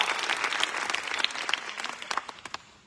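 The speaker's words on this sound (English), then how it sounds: "So big applause to you" Warm applause from an audience at a fan meeting in Barcelona, dense clapping filling the room and slowly tapering off toward the end, with scattered individual claps standing out.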